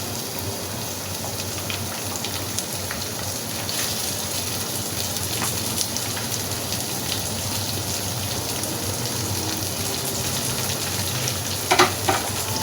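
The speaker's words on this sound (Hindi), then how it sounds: "फ्लेम को यहाँ पर आपने लो पे कर लेना है और चिकन को इसमें ऐड कर देते हैं।" Roughly half a kilo of boneless chicken fries in a pan on a low flame for a methi chicken dish, making a steady, even sizzle like light rain, close by, with a few faint clicks near the end.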